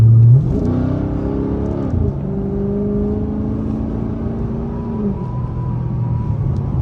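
A Dodge Charger SRT8 engine revs up and holds a steady, rising drone as the car accelerates to pass, loud and close, with a constant road rumble underneath.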